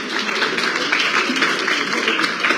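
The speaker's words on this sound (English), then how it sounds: "Another round of applause, please, ladies and gentlemen." Audience at a book launch giving a steady round of applause, dense overlapping claps filling the room at moderate loudness, with no break and no talk over it.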